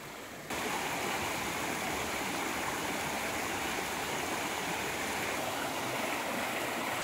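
Steady roar of a waterfall in Panama heard close by, a constant dense rush of falling water that swells in just after the start and holds evenly with no voices.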